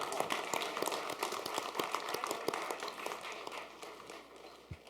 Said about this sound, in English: I think the unknown quantity should get an extra round of applause for their very lengthy answer